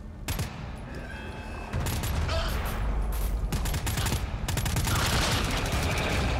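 A deployed sentry turret fires at zombies in the co-op horror shooter GTFO, with rapid repeated shots that swell louder partway through and continue steadily.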